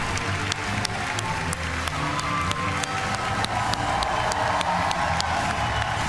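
Audience at the 2017 Ubisoft E3 press conference applauding and cheering, a loud continuous wash of clapping with scattered whoops and sharp claps standing out.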